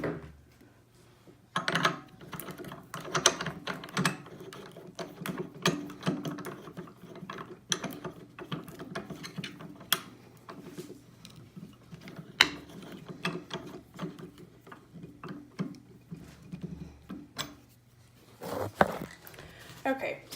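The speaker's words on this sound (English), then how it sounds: "put the corners into the chuck and then tighten it down, pushing it all the way to the back" A lathe chuck clicks and ratchets as it is tightened around a wooden pen blank, with irregular mechanical clatter and gear-like ticking close by and a louder knock near the end.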